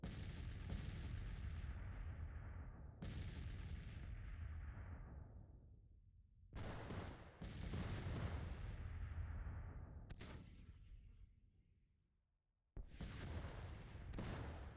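Cannon and rifle volleys from a Civil War battle in Grand Tactician, heavy booming blasts that roll out and decay, repeating in several separate bursts with short gaps between them, no talking.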